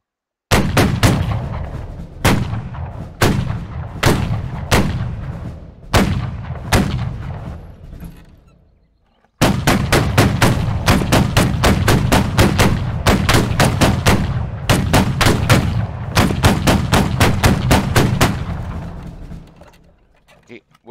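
A Gatling gun fires in the Civil War video game Battle Cry of Freedom, loud sharp shots in spaced bursts, then a brief silence and a long rapid rhythmic volley of repeated blasts before fading.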